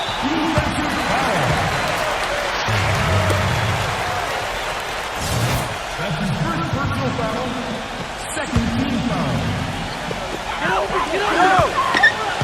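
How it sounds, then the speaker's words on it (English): A steady murmuring arena crowd in the NBA 2K14 basketball video game fills the background, while commentators talk over it throughout. "Can you hear the crowd kind of murmuring?"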